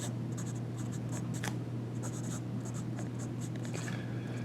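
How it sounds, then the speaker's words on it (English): Metal fountain pen nib writing on paper: soft, continuous scratchy strokes in short bursts, close up and quiet over a low steady hum. "So let's lay down some ink and count to 5."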